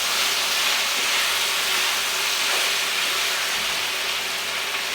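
Tomato paste and vegetables for a sweet potato curry sizzling in the bottom of a pan, a steady loud hiss that continues without a break for the whole stretch.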